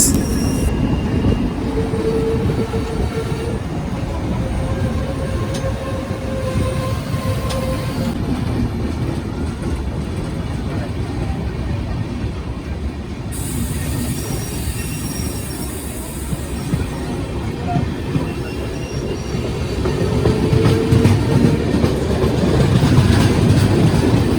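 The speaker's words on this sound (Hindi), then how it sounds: "मुंबई से अमृतसर की ओर जाने वाली वाया चंडीगढ़ होते हुए पश्चिम एक्सप्रेस।" Paschim Express train running from Mumbai toward Amritsar via Chandigarh, a loud continuous rumble of wheels on rails with intermittent high squeals, growing heavier toward the end.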